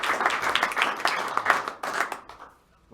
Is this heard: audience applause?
yes